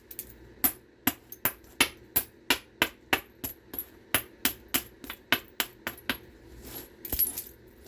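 Flint being knapped to trim small gunflint blades with English-style blade work: a steady series of about twenty sharp, close clicking strikes at a brisk, fairly even rhythm, with no talk over them.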